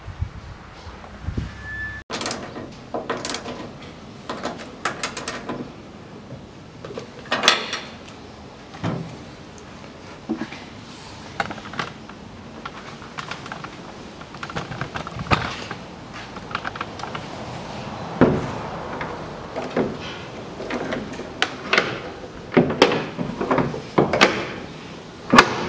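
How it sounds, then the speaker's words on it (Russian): Work on the rear door of a 1982 Land Rover Series III as new seals are fitted: scattered clicks, knocks, rubbing and creaks of metal and rubber at close range, irregular throughout, with no talk. "Сейчас установлю уплотнители и буду ставить заднюю дверь."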